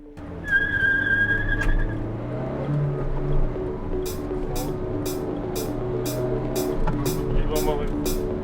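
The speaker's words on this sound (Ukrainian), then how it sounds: "спробуємо пришвидшення до 100 км на годину" A Renault Dokker van's engine strains and rises in pitch as it accelerates toward 100 km/h, shifting gears, heard from inside the cabin with a steady ticking throughout the second half.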